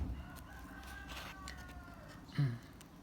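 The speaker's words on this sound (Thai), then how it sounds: "แล้วก็มีไก่ครับ" A rooster crows once, a short loud call near the end over a quiet background, with no talk.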